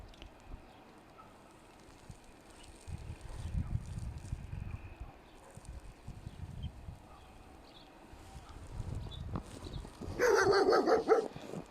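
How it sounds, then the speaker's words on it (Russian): Dogs bark outdoors on a residential street in Pechora, Komi Republic. Scattered low noise runs throughout, and a loud, close burst of barking breaks out near the end. "Тут есть красивые собаки."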